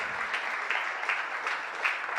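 Congregation clapping during a church sermon, a brief burst of steady, dense applause with a few louder individual claps standing out, heard alone.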